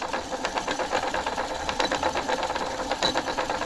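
A VHS tape winding tightly onto its spool under tension in a cleaning and repair machine, giving a steady, fast mechanical whir with rapid fluttering ticks, close and fairly quiet, with no talking.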